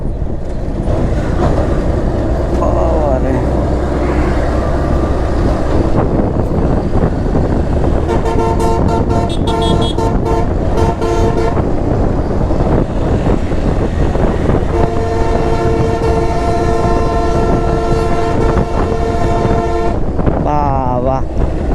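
Vehicle horns toot repeatedly on a crowded road thick with CNG auto-rickshaws, loud and sustained over heavy traffic rumble and wind, with people talking throughout.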